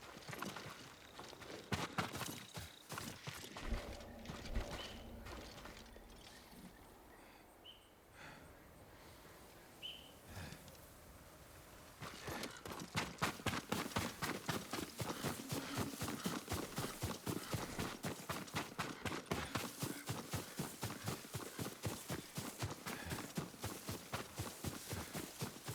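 Horse hooves clip-clop at a steady walking pace in Ghost of Tsushima, the rhythmic footfalls growing louder and denser midway through, over soft ambient wind and occasional faint bird calls.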